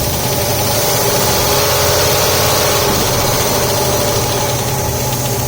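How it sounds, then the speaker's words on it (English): The V8 of a 1968 Cadillac Eldorado idles loud and close, with a steady, even rumble that holds throughout without any revving. "I got it running flawless. I mean, lowest throttle, idle's perfect."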